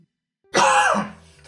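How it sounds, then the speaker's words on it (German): A single harsh cough that rolls into throat clearing, one close, loud burst after silence that fades quickly with a low rasp. "Verdammtes Husten."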